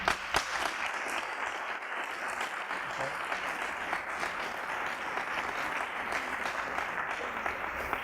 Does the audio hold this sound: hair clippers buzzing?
no